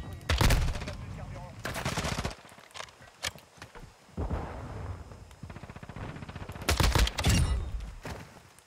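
Rapid automatic gunfire from a weapon in Call of Duty: Modern Warfare 2 multiplayer, loud bursts of shots separated by short pauses, with someone talking in between.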